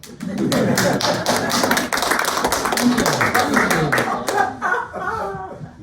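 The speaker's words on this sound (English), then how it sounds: "I don't discourage applause" Clapping from an audience after a poetry reading breaks out close by and holds steady for several seconds, with scattered taps and a few voices and chuckles mixed in.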